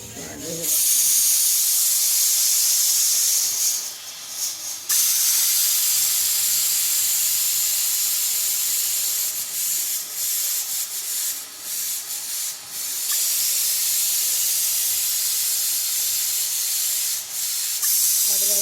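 Steam hissing from a pot of rice cooking on a home stove, a loud continuous high hiss that holds steadily, dipping briefly a few times before resuming.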